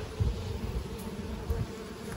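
Honeybees pour out of a hive during a fall Varroa treatment, a dense close buzzing hum that holds steady throughout, with occasional louder passes near the ear.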